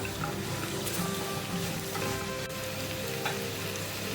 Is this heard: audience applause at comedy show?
no